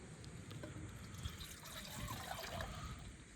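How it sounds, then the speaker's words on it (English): Water pours steadily into a titanium pot at a windy campsite, a continuous close splashing trickle that grows slightly louder toward the end. "So I'm going to dump the rest of this water in to boil it all."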